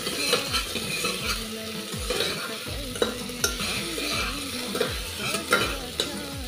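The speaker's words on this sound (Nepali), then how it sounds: "अब चाहिँ यो प्याजलाई गोल्डन ब्राउन हुन्जेलसम्म फ्राई हुन दिएँ" Onions with green chillies and bay leaf fry in oil toward golden brown, a close sizzle under frequent rhythmic stirring scrapes and knocks of a spoon against the pan, no voices.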